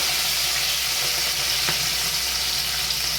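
Starchy water saved from boiling chowmein goes into a hot frying pan for lemon butter prawn noodles, bringing up a loud, steady, close sizzle that hisses evenly throughout, with one brief knock midway.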